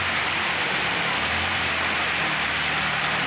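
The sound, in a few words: monsoon rain falling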